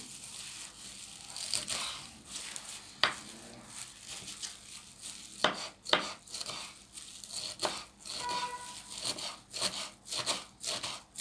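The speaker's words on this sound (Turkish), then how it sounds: "ayıklanmış yıkanmış maydanozumu da ince ince doğruyorum" A knife finely chops cleaned, washed parsley on a board in a kitchen, making a string of crisp, irregular close cuts with no one speaking.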